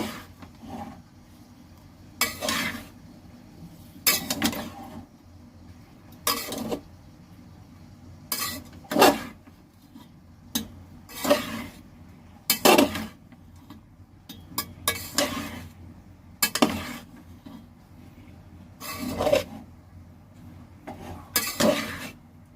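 Rice and vegetables for fried rice being stirred in a pan, a slow series of sharp metallic scrapes and clinks from the utensil, spaced a second or two apart over a quiet background.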